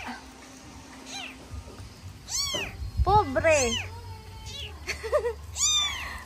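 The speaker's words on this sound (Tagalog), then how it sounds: "Ay, may kuting. May kuting." Kitten meowing repeatedly in rising, plaintive calls, close and fairly loud, with people speaking around it.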